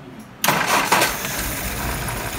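An engine cranks and catches a little under half a second in, then settles into a loud, steady running idle that continues to the end.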